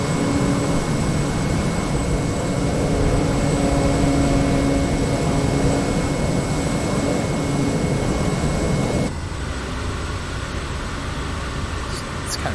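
A Kodiak 100 turboprop engine drones steadily in flight during a descent in Microsoft Flight Simulator, a loud constant roar with a high whine that drops to a slightly quieter, duller hum near the end, with no voices over it.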